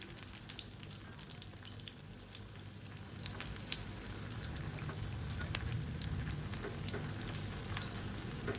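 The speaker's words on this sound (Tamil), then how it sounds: "இவ்வளோ எண்ணெய் ஊற்றி பொரிக்கிறது பிடிக்கலை அப்படின்னு நினச்சிங்கன்னா" Appam fries in a pan of oil for a Karthigai Deepam festival dish, with a steady close sizzle and scattered crackling pops and no voices.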